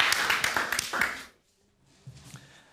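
An audience gives a short burst of warm applause welcoming a speaker at a Dutch talk on decent work, dense clapping for about a second before it cuts to near silence, followed by faint sounds.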